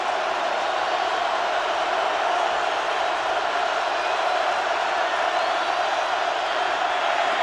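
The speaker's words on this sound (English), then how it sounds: "Crowd coming to life." Dense, steady roar of a large football stadium crowd cheering at a college game between Oklahoma and Nebraska, continuous and loud throughout with no break.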